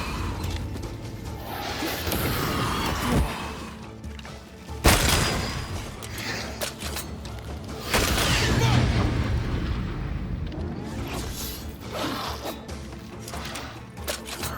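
Loud gunshot-like booms from a corpse enemy opening fire in the Banishers: Ghosts of New Eden video game, with sharp blasts around the five- and eight-second marks over a dense, rumbling game soundscape.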